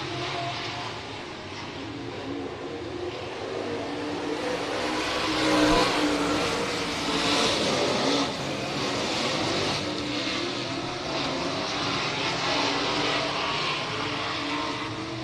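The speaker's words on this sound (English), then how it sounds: "Broking to the inside, Hindley in the middle, 3 wide down the front stretch with Topazzini on the outside" Race cars circle the Hibbing Speedway oval during a weekly race night, their engines a steady, dense roar that swells and fades slightly as the pack passes, with no voices heard.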